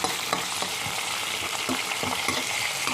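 Onions fry in a pan for an aloo baingan curry, giving a steady close sizzle with a few soft stirring clicks and scrapes and no talking.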